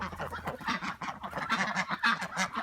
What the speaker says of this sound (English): our chicken and duck pen.